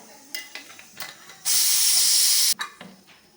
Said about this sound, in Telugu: ఇప్పుడు ఆవిరి తీసి ఓపెన్ చేద్దాం.